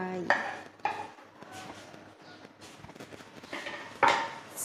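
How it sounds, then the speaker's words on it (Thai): Chopped lemongrass tipped into a Thai shrimp salad in a bowl, heard as several clinking utensil-on-dish hits and scraping stirs at irregular intervals, close and moderately loud. "ตะไคร้ใส่ลงไป"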